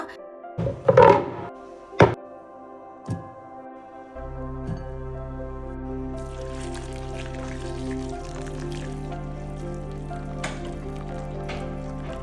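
Boiling water poured over small cauliflower pieces in a pot, a steady continuous pour and gurgle after a few sharp knocks of the vessel, with no talking.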